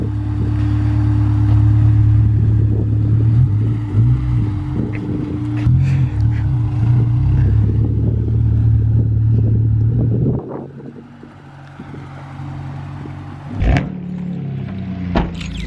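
A car engine with a new exhaust idling loudly nearby with a deep droning exhaust note, then cutting off, followed by a quieter stretch and a brief sharp rev.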